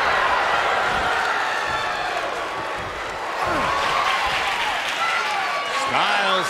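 An arena crowd roars and applauds steadily in a WWE 2K23 wrestling match, loud and continuous, with a commentator speaking over the noise.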